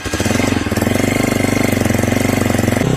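A 2023 Hawk-X 250 motorcycle engine running on choke with a modified stock carburetor, a loud, close, rapid steady thumping idle with a slight change in tone near the end.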